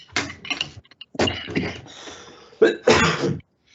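Several sharp, breathy bursts close by, ending with a forceful sneeze, and mixed with throat-clearing noises.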